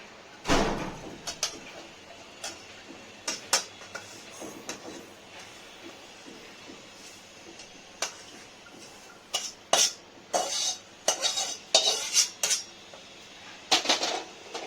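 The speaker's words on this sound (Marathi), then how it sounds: "आता आपण हा काढून घेणार आहोत. काढून घ्यायचं त्याला" Roasted semolina scooped from a pan into a bowl with a metal spoon, giving scattered scraping clinks and taps at close range, sparse early and bunching into busier clatter toward the end, with no talk.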